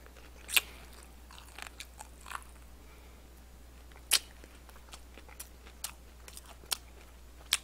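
Fried and soy sauce glazed antibiotic-free chicken being eaten close up: scattered sharp crunchy bites and chewing at irregular intervals over a quiet, low hum.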